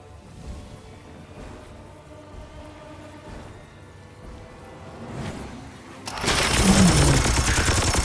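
Gunfire in the Warhammer 40k: Chaos Gate Daemonhunters video game: a low rumbling backdrop gives way to a sudden, loud, dense burst of shooting in the last two seconds.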